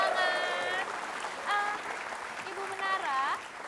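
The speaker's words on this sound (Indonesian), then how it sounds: "berikan tepuk tangan" Studio audience applause on an Indonesian television talk show, a steady wash of clapping with voices rising above it in short bursts.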